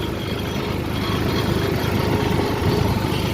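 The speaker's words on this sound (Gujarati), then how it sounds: "આપણે ટ્રેક્ટર છે સોનાલિકા TI 42" Sonalika TI 42 tractor engine running in a farm field, a steady, loud low-pitched diesel rumble with continuous throbbing vibration, close by and uninterrupted.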